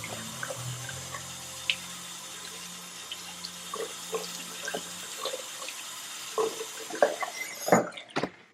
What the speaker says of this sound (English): I will damp it with water and I'm just gonna clean my face with it